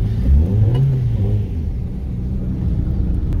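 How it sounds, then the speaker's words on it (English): A car is driving along a street, with a loud steady low engine rumble and road noise from inside the vehicle, a brief rise in pitch early on as it accelerates, and no talk. "we are on a drive, going for a drive."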